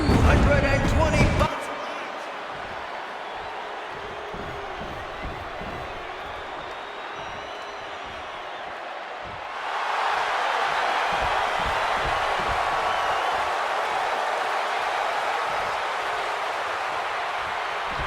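A capacity crowd in a WWE 2K26 arena roars and cheers, a loud sustained swell that rises sharply partway through, with a commentator talking over it.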